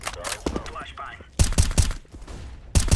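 Sharp bursts of gunfire and grenade blasts crackle in close, rapid clusters during a Counter-Strike style esports match, a flashbang being deployed amid the chaotic firefight, with a faint voice in the background.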